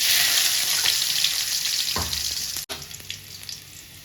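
Chopped garlic sizzles hard in a little oil for cauliflower 65, a close, steady hiss of frying broken by a short clatter partway through, then the sizzle goes on.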